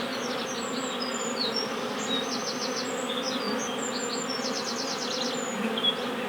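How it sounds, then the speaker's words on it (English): A steady, dense buzzing of a honeybee swarm at a hive hums continuously, with faint high chirps flickering above it; no voices. "Very excited bees."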